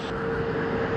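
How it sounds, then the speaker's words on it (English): A Japan Airlines Boeing 787-8 Dreamliner at Sydney Airport produces a steady jet engine roar with a sustained whine, heard briefly and fairly loud. "Japan Airlines Boeing 787-8 Dreamliner."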